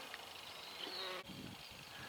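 Bees buzz around trees in an arboretum in Meonstoke village in the South Downs, a faint, continuous outdoor hum with little variation.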